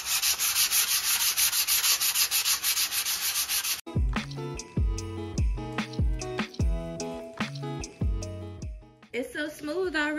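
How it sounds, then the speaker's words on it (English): Sandpaper rubbing over a DIY three-foot Christmas nutcracker soldier, steady rhythmic scratchy strokes up close for the first few seconds before giving way to other sound. "smooth things out with my sandpaper"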